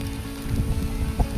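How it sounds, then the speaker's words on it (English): Pouring rain at a resort building site in Mexico, a steady dense hiss and patter of drops covering the whole stretch, with no voices. "It was pouring rain."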